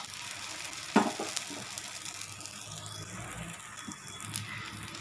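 Coconut poli frying on a hot griddle, a soft steady sizzle and crackle heard close but quiet, with a light scrape or tap near the start.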